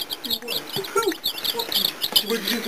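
A brood of about fourteen young chicks cheeps indoors, rapid high-pitched peeps overlapping in quick bursts, close and fairly loud, with some voices talking in the background.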